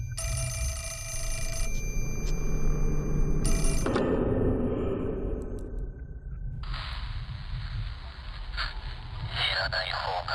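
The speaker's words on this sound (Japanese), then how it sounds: "電話出てよ。" Telephone ringing in the horror video game Fatal Frame 4: Mask of the Lunar Eclipse, bright repeated tones over a low rumbling ambience with faint whispery noise, fairly loud, no clear talk.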